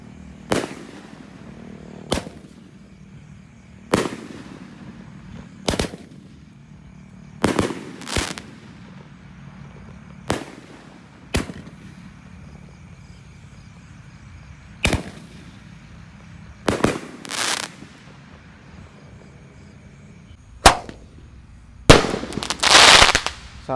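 Roman candle fireworks fire a series of sharp, loud bangs outdoors, about a dozen single shots spaced irregularly over twenty-odd seconds, some in quick pairs, with a brief crackling burst toward the end.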